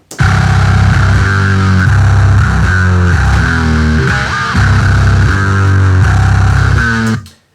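A thick, heavily distorted bass guitar tone plays a steady riff of sustained notes, loud and gritty throughout, with no voices.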